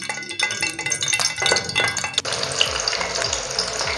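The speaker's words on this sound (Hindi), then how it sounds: "पैन के अंदर दोस्तों मैंने घी और खोया डाल दिया है, अब इस खोए को इसके अंदर मेल्ट करूँगा।" Khoya melting in ghee in a hot pan for carrot halwa, a close crackling sizzle with spoon clinks and scraping against the pan.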